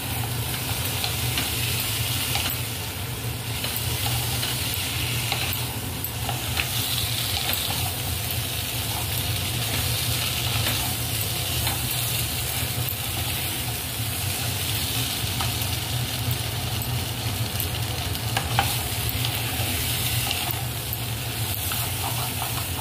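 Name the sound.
stirring frying catla fish curry with turnip and chopped tomatoes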